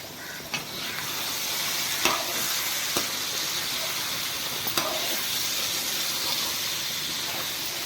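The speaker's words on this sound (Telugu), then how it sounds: "వంకాయలు లేతగా ఉండడం వల్ల తొందరగానే మగ్గిపోతున్నాయి" Tender eggplant cooking in a pan gives a steady close sizzle and hiss with a few faint clinks and stirring scrapes throughout.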